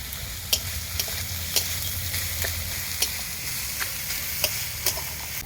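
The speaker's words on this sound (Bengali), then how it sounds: "এবার আমি বড়িটা ছড়িয়ে একটু নেড়ে চেড়ে নামিয়ে নেব" Lentil dumplings (bori) are stirred into greens frying in a pan, giving a steady sizzle with sharp scraping clicks from the spatula at irregular intervals, close and moderately loud.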